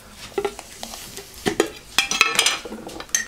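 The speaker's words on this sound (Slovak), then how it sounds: "zmiešaš a pridáš jednu kopcovitú čajovú lyžicu solamilu alebo iného škrobu a dobre premiešaš" A spoon stirs a soy sauce and starch mixture in a bowl, giving a few short scraping clinks and swishes at close range, irregular and fairly quiet, with no voices.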